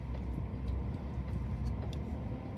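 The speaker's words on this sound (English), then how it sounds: "So I'm just going to turn the car, drive around here" Car driving and turning on a town road near a tram depot, a steady low interior rumble of engine and road noise throughout.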